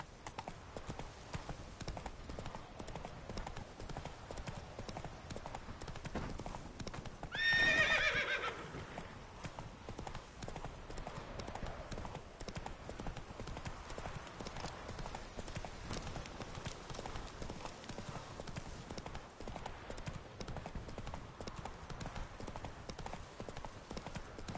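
Hoofbeats of Geralt's horse Roach running in The Witcher 3, a fast continuous clip-clop rhythm from start to finish, with a brief louder burst and a whinny partway through.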